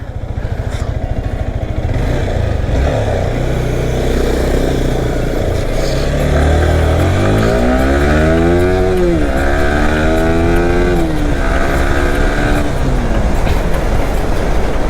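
A Kawasaki Z900 motorcycle on a street ride, its engine loud and close with repeated rising and falling revs through the gears over steady wind and road roar.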